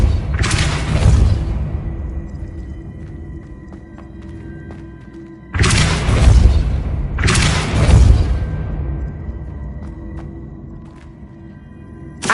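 Depulso force-push spell cast in the Hogwarts Legacy video game: three loud whooshing bursts with deep booming thumps, each fading into a low rumbling decay, spaced a few seconds apart.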